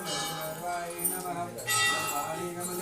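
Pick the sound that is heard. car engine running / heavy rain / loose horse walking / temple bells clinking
temple bells clinking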